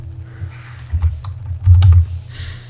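Fingers type a short value on a computer keyboard, a few distinct key clicks spaced unevenly, then a brief cluster of closer, louder taps, heard alone in a quiet room.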